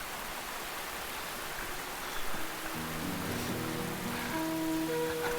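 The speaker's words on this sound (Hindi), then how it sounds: "कितनी बारिश है" Heavy rain falls in a dense, continuous hiss; partway through, soft sustained musical tones rise beneath it in a dramatic film scene, with no voices.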